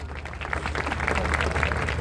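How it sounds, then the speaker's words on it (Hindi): Seminar audience applauding in a large hall, a steady wash of clapping at moderate level that builds slightly and keeps going without pause. "उनके लिए एक बार तालियां आपकी चाहूंगा"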